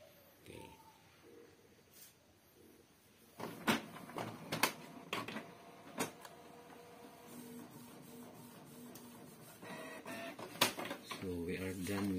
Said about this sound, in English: So we are done with printing the third grading grades.